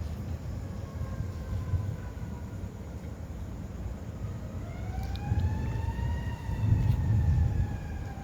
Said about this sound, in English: Big city sirens.